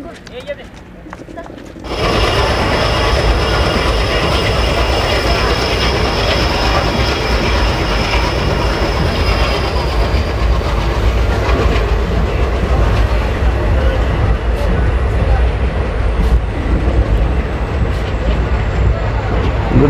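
A passenger train on the Barmer to Munabao line in the Rajasthan desert near the Pakistan border, running steadily on rails with a loud, continuous rumble and rattle of wheels and carriages, under someone speaking in Hindi.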